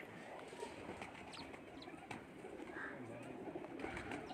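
Pigeons coo softly on a rooftop loft amid a faint, busy background, with low murmuring calls repeating throughout.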